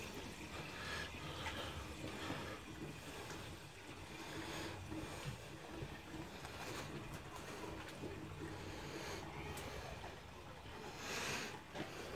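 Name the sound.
water running through an aquaponics system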